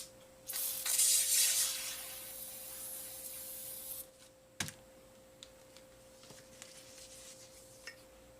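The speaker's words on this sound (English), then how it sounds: "I'm going to spray some lubricant on here." Lubricant sprayed from a can onto 1000 grit wet sandpaper during a Honda CR250R front end restoration: a loud, steady hiss lasting about three and a half seconds, then one sharp knock and a few light taps and clicks.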